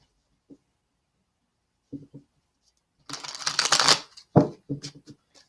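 Quiet crisp tarot card shuffling: a few soft riffles, then a sustained dense flurry of shuffling followed by short bursts, close and alone.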